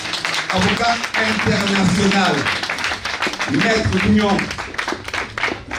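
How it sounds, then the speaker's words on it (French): An audience at a gala evening in Paris claps for a lawyer. Dense applause carries through the whole stretch beneath a loud voice speaking French into a microphone. "On peut applaudir, on va se lever pour lui."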